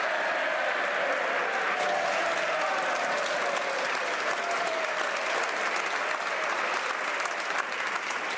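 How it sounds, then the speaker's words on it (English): Members of the House of Commons applaud during parliamentary question period, a dense, sustained roar of many hands clapping in a large chamber, steady and loud throughout with no break. "I know the members want to applaud the Leader of the Opposition"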